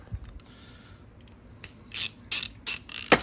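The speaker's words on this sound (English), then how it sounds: "back to the Rotor ratchet review" An Icon rotor ratchet clicks in a few short, crisp bursts close by, the last one a rapid run of ratchet teeth, with no talk over it.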